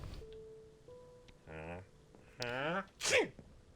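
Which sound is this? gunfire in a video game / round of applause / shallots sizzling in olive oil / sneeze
sneeze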